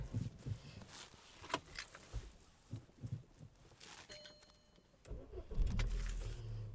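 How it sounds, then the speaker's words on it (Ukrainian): A Volkswagen Golf Plus with a 1.6 MPI petrol engine starts with a short low crank and catches near the end, after soft clicks and handling noises inside the car. "Двигун запускається чудово,"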